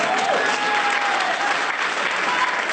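Dense, steady applause from a large audience at a French-language talk on financial maturity, continuous and loud for the whole stretch with no speech over it.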